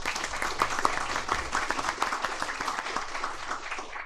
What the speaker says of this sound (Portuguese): a gente recebe de cara o Rosinaldo com uma salva de palmas